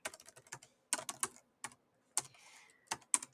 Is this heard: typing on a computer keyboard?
yes